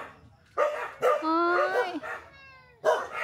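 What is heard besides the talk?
dogs barking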